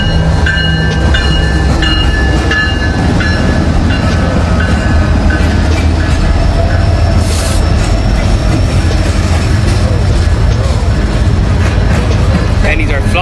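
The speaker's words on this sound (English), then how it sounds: "That's the train, you guys, coming." Train passing at close range over pennies laid on the tracks: loud continuous rumbling and clattering of wheels with squealing tones, sustained throughout, with people talking over the roar.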